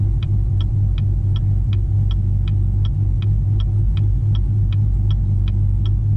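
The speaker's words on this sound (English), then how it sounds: "So the timing's going all over the place, causing the car to kind of shake" A cammed Chevrolet Camaro SS V8 idles roughly with a loud, low, throbbing lope, while a steady train of sharp ticks repeats about three times a second over the uneven rumble, with no talking.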